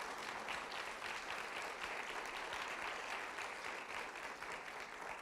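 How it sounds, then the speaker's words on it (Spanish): A church congregation at a united worship service applauds steadily, a dense even wash of clapping that holds at one level throughout. "Dale un aplauso al Señor por eso."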